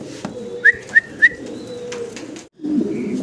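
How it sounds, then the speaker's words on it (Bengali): A pair of blue barless racer pigeons coo close by, three short soft calls in quick succession, followed by quieter murmuring and a low rustle. "ব্লু বারলেস কালারের ভিতরে একজোড়া রেসার কবুতর আপনারা দেখতেছেন।"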